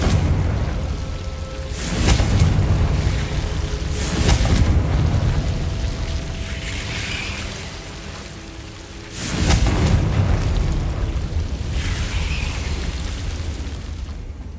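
Blasting spell explosions in Hogwarts Legacy on PS5, three heavy booming bursts near 2, 4.5 and 9.5 seconds over a steady rumbling, rain-like background.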